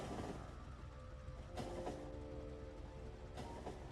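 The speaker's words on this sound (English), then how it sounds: "There's another oil train." Oil train rolling through a Factorio factory, a steady low rumble with rhythmic rail clatter swelling twice as cars pass, moderately loud and continuous.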